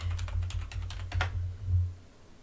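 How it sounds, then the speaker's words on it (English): A computer keyboard clatters as a run of quick keystrokes, about eight close taps spread over a second and a half. The keys sound near and crisp over a low hum, and then the typing stops. "let me type space workout"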